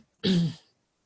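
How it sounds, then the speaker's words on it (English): A single short throat clearing, close and fairly soft, followed by silence. "Maybe you need to clear your throat a little."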